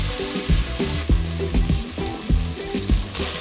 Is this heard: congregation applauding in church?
no